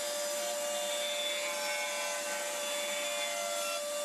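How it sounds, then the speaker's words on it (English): A router fitted with a roundover bit rounds the top edges of a length of wood, giving a steady, continuous high-pitched whine and rasp that holds evenly throughout at a moderate, close level with no talking. "with a roundover bit in the router, round the top edges"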